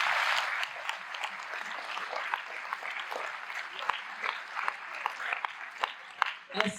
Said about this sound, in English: Yeah, that deserves an applause.